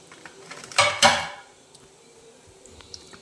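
A spoon stirring Maggi noodle masala powder into water in a pot strikes the metal twice in quick succession, two sharp clinks followed by quiet kitchen background.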